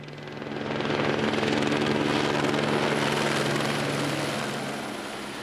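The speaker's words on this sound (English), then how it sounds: "the sound of the chopper taking off" A helicopter engine and rotor swell up to a loud, steady thrum in New Zealand, holding strong before easing slightly as it lifts away.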